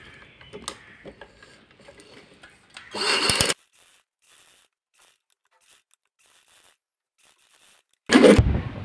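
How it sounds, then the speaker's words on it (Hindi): Sewing machine stitching fabric for a potli bag: two short, loud bursts of rapid mechanical whirring, separated by quiet handling noises and near silence, with no talk. "इसके ऊपर हमने सिलाई लगा देनी है"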